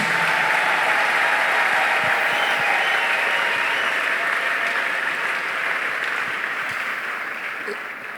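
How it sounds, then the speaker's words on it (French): A church congregation applauds loudly and steadily, a dense wash of clapping that continues throughout and tapers slightly toward the end. "Acclame, acclame, acclame très bien Jésus."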